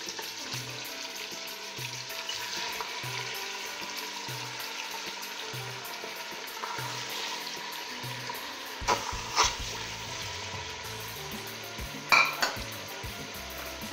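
Chicken pieces sizzle in hot oil and melted margarine in a pan, a steady close frying hiss with soft rhythmic stirring, then a few clinks of a utensil against the pan near the end.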